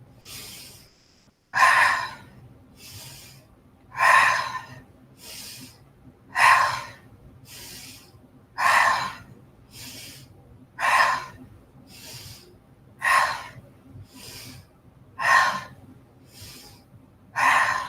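Rhythmic breathing during a standing yoga twist, with about eight slow, regular breaths that sound loud and close. The breath cycles are evenly spaced, with no talking.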